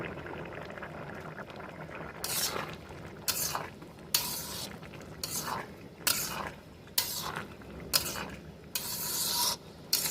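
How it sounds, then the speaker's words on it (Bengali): A spoon stirs ghugni with peas and potatoes in a pan, scraping in repeated bursts over a steady bubbling simmer, close and fairly loud with no talk. "2-4 মিনিট নাড়াচাড়া করে আমরা নামিয়ে দেবো।"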